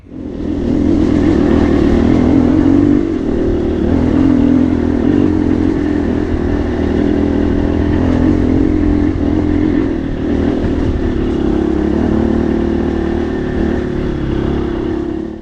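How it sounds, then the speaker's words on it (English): Dirt bike engine running hard near a hillside, a loud, continuous revving roar with slight rises and dips in pitch, close by and steady for the whole stretch with no voices. "That's where I made it to on the dirt bike."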